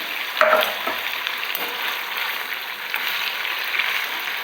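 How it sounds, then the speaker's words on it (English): Chicken cafreal sizzles steadily and loudly in coconut oil in a pan, a constant crackling hiss with an occasional stir, no voices. "It has to be uniformly fried, and I'm frying this in coconut oil."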